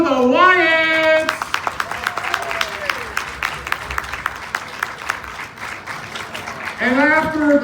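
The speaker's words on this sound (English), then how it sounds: "let's give a big round of applause to the Wyatts" Applause and clapping from a crowd at a county fair game show, cheering on the winning couple; claps ring out through the middle of the clip, with a loud voice speaking over the start and end.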